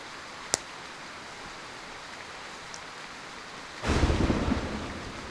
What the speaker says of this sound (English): I can use the stormy night to restart my investigation